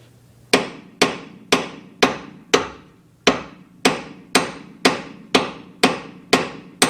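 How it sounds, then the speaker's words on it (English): A big hammer striking the lower ball joint of a Lexus GS300/400/430 or SC430, about twelve sharp metallic whacks in a steady, roughly half-second rhythm, each ringing briefly before the next, close and loud. "get a big hammer like this, pull it back, and just hit it right there."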